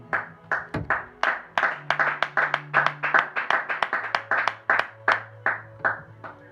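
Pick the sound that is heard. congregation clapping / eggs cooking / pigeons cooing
congregation clapping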